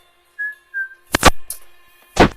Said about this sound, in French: Je sais pas pourquoi j'ai sifflé.